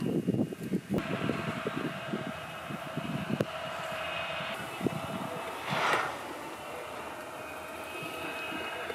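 A roboUP Raccoon 2 robot lawnmower drives along the edge of a lawn, giving off a steady motor whine and hum, with light rustling and a few soft knocks nearby.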